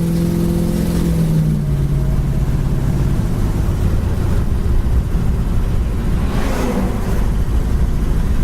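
A 1968 Pontiac Firebird drives along a road, its engine humming steadily from inside the car with a brief tone change early on and constant road rumble, no voices.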